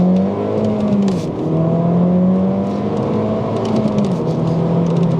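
Rebuilt Mini Cooper S pulling hard in first gear, engine note climbing steadily and loud from inside the car, with a brief dip and a rise toward the rev limiter; no talking.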